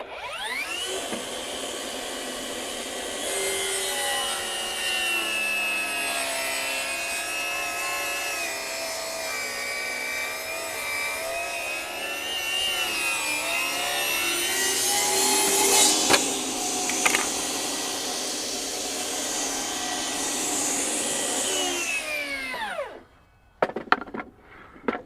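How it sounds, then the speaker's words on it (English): A FLEX 24V brushless cordless 10-inch table saw rips lengthwise through a 4x4 in one pass, a loud steady whining cut with blade harmonics lasting over twenty seconds before the motor spins down and stops. "this is the only 10-inch cordless table saw that will rip a 4x4 in one"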